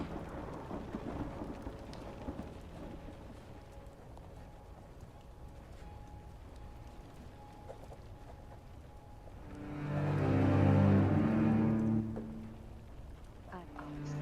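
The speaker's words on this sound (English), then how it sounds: "you hear thunder in the background" Ambient rain and thunder effect for a tabletop D&D session: a constant patter of rainfall throughout, with a deep rolling thunder rumble swelling loudly near the end and then fading.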